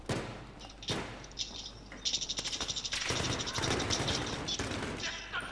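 Rapid bursts of automatic gunfire and single shots crackle during an indoor Battlefield 3 multiplayer fight, with a fast rattling volley in the middle and sharp cracks throughout, under a player talking.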